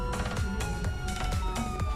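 Police car siren in the GTA video game, a loud, continuous wailing siren with repeating rising sweeps, close and steady throughout with no talk over it.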